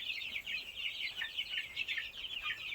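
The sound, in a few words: three-week-old village chicken chicks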